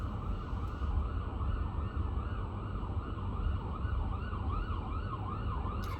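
A wailing emergency siren sweeps up and down in steady repeating cycles over low road rumble, heard from inside a moving car with no talk.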